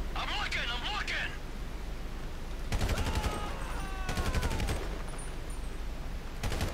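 Gunfire in Grand Theft Auto 5 rattles out in two quick rapid-fire bursts over steady background noise, loud and close, with people talking.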